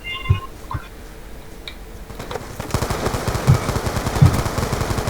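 Automatic and single gunfire in the video game Black Ops 2, with bursts of rapid shots growing denser and louder toward the end, mixed with game effects.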